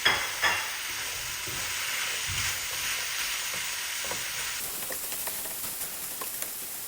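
Potatoes and mince meat filling being stirred and mixed in a hot pan give a soft, close scraping and a steady faint sizzle, with no talking.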